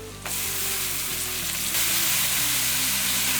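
Brinjal sautéing in hot oil, a loud, close and constant sizzle with a low rumble beneath, the hiss swelling slightly partway through and carrying on with no voices.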